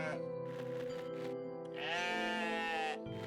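Sheep in the video game OneShot bleat in a drawn-out, vocal 'ah'-like tone, loud and close over a steady game music bed, with one long bleat ringing out in the middle.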